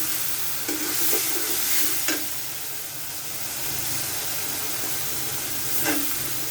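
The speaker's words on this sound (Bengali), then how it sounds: "এখন আমি অ্যাড করে দেব সবজিগুলো।" Vegetables, starting with potato, are added to a frying pan of hot oil and stirred, giving a steady sizzle and hiss with a few brief louder bursts of scraping as they go in.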